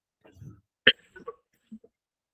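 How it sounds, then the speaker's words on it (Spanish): One sharp, close cough stands out between a few soft throaty noises and breaths. "Perdón la tos"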